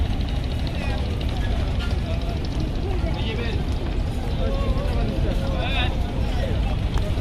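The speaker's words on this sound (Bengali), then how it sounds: "দেখছো কত ফেরি রয়েছে এখানে" Riverside bustle on the Buriganga in Dhaka, with steady boat engine drone from many ferries and a crowd's babble mixed in, and a voice talking over the continuous noise.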